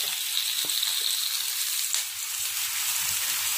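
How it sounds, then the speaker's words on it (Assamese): Mustard greens drop into a pan of onion, garlic and ginger frying in oil for a dried pork dish, giving a steady, close, hissing sizzle with a few soft stirring knocks. "এয়া পিঁয়াজ আৰু নহৰু আদাখিনি ভালকৈ ভাজ খালে এতিয়া মই লাই শাকখিনি দি দিম।"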